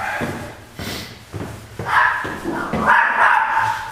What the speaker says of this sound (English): Killer dog.